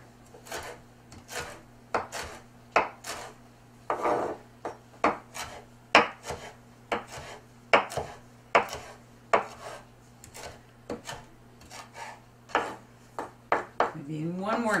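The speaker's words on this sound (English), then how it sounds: "You can use a lot of dill, because dill is so good with salmon. So I want to chop this up." Knife chopping fresh dill on a cutting board for a salmon dish: many crisp, close taps in an irregular rapid rhythm with short pauses, over a low steady hum, with no talking.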